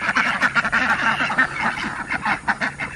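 Muscovy ducks being fed outdoors make repeated close honking, quacking calls in a quick uneven rhythm, loud and clear with no talk.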